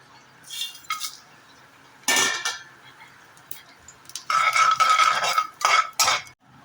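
Whole spices including nutmeg, star anise, bay leaf, cinnamon and cloves drop into hot oil and ghee in a pan, giving close sizzling bursts mixed with metallic clinks and scraping.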